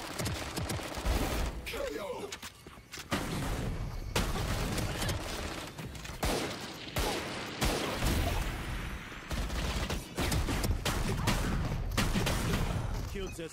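Rapid bursts of Valorant gunfire crackle almost nonstop, sharp repeated shots and fusillades from close range, with a voice talking briefly over the game audio.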